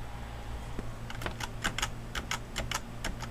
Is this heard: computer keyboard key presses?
yes